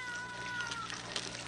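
A cat meows in a thin, sustained, whiny tone that runs for over a second, fairly faint beneath a busy, hissing background.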